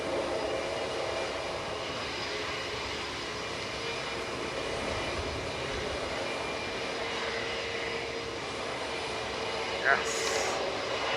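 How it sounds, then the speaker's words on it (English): Steady broadband aircraft engine noise from an Aer Lingus airliner pushing back at Manchester Airport, a continuous distant hum with faint talk over it. "Aer Lingus Giddy is pushing back."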